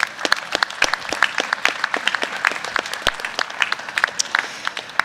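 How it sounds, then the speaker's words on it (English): Lively applause at an agricultural innovation challenge as the competing teams gather on stage; crisp, individual claps stand out sharply over a fuller crowd patter for several seconds. "Let's give these folks another round of applause."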